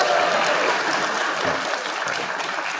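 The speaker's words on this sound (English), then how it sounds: "I didn't want to be the only one that not get applause from you all" Audience applause during a courtroom-style event at a university, a steady wash of clapping heard alone, slightly fading toward the end.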